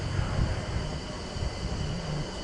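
A London Overground Class 378 electric train, unit 378-234, pulls into Clapham Junction station with a steady low rumble and rolling wheel noise that stays close and constant throughout, backed by a faint high whine.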